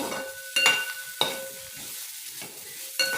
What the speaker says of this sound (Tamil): இது இப்போ ஒரு ரெண்டு நிமிஷம் வதக்கி எடுத்துக்கலாங்க